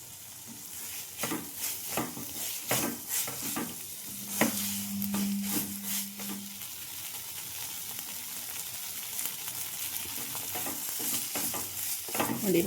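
Chicken dry fry sizzles in a pan while being stirred, a steady frying hiss punctuated by repeated scraping strokes of the spoon, close and fairly loud, no one talking.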